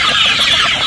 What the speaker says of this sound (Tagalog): Ito yung ating mga manok Pinoy sa free range.